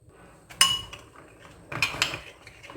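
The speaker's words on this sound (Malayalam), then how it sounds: "ഇനി നന്നായിട്ട് ഇളക്കി മിക്സ് ചെയ്യാം." A spoon clinks and scrapes against a bowl while a potato nugget mixture with chaat masala, pepper and salt is mixed, in two short bursts of clattering with quiet between.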